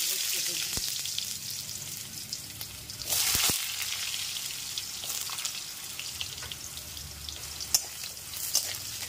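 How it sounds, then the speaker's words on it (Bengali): Oil sizzles steadily as potato pieces fry in a pan, with a few clinks and a brief louder burst of spattering partway through. "আগে একটু আলুগুলোকে ভাজা করে নেওয়া হচ্ছে"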